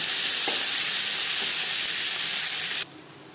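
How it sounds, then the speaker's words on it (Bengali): Onions fried in oil with whole cumin and dried red chillies crackle in a loud, continuous sizzle with a few faint clicks, then the sound cuts off abruptly near the end. "জিরে শুকনো লঙ্কা ভেজে নেওয়ার পর দিয়ে দেবো পেঁয়াজ"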